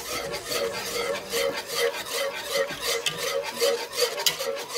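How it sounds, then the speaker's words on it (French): Cream and white wine sauce for a chicken fricassée being whisked in a pan, a steady rhythmic scraping and swishing close by that repeats in quick regular strokes throughout, with no voices. "Et fouetter jusqu'à obtenir une sauce assez épaisse."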